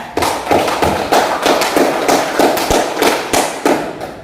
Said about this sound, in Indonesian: kasih aplaus untuk Dani ya.